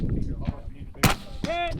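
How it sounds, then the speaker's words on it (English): Rifle gunshots at a shooting match, fired standing at around 100 yards, give one sharp close crack followed by a second fainter report and ringing metallic ping, over faint background noise. "So we're shooting standing at like 100-ish yards, which is a little awkward with these guns"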